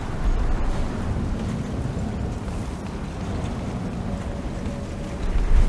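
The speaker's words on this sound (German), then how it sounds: "Dass der Sturm überhaupt nicht mal ein bisschen nachlässt." Storm wind roaring in the survival horror game Daymare 1994: Sandcastle, a steady broadband rush with low rumbling gusts that swells again at the end, continuous and fairly loud, with no speech.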